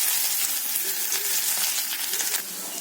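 Onion and curry leaves frying in sesame oil for a South Indian tempering with mustard seeds and urad dal: a loud, steady close-up sizzle with faint crackles and stirring, no talking.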